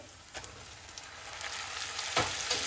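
Tomatoes dropped into a pan of onions frying in oil, with a steady sizzle that swells as they go in, plus light stirring scrapes, close and fairly quiet.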